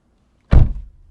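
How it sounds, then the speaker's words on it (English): One solid thunk as the car door of a NETA S sedan is shut, close and fairly loud, with a short dull decay and no talk. "Oh, that door sounds pretty cheap when you close it"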